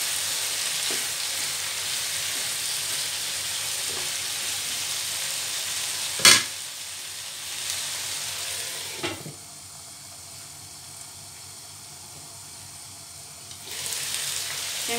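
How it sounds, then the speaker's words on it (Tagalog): Ground pepper is stirred into a sizzling pan of sweet potato tops cooked in coconut milk. A steady frying hiss runs beneath a few sharp clanks of a utensil against the pan, then the sizzle quiets before rising again. "Mag-add tayo ng pamintang durog. ang haluin natin."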